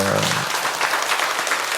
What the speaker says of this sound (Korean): 우리 박수로 한번 축하합니다